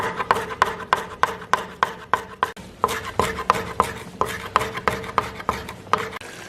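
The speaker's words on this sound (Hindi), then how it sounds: "अब धनिया इसी तरह बारीक बारीक काटेंगे" Knife chopping fresh coriander finely on a board, a quick steady run of sharp close taps with a brief pause midway, fairly quiet and with no talking.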